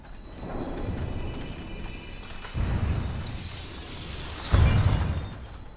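Glass prophecy orbs in Harry Potter shatter during a showdown with the Death Eaters: a continuous crackle of breaking glass, with two loud, close crashes partway through and near the end.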